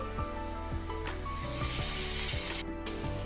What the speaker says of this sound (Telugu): నూనెలో మంట మిడిల్లో పెట్టుకొని ఉల్లిపాయ మగ్గేదాకా ఉంచుకోవాలి